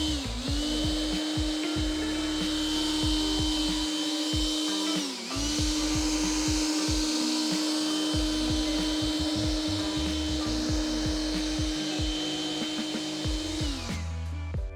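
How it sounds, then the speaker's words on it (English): A steady, loud Makita handheld electric blower whine runs continuously while drying a car, dipping briefly once mid-way, with a high motor hum and rushing air. "one of these handheld dryers from Makita"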